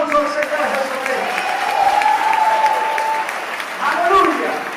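A church congregation applauds during an evangelical service, many hands clapping loudly and continuously beneath shouting voices and a sustained tone, the crowd noise swelling again near the end.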